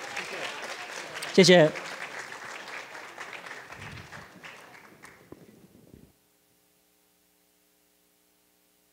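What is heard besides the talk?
applause for award winners at ceremony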